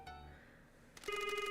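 A phone rings in the video game Promise Mascot Agency. A soft tonal chime fades out, then after about a second a bright, steady electronic ringtone starts and repeats.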